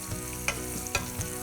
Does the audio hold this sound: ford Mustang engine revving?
no